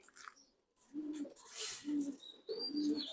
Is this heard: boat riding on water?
no